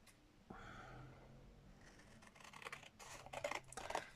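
Scissors cutting out a handmade card, heard as soft, close snips and paper rasps that grow busier toward the end of a quiet tabletop scene.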